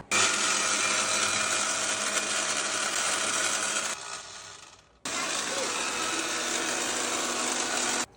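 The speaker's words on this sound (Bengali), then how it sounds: "এবার আমরা ব্লেন্ড করে দিব তোমরা দেখতে থাকো কেমন হয় আমাদের লাচ্ছা" A blender whirs through lassi with two ice cubes in a loud, continuous run, winds down and stops for a moment, then starts again for a second burst.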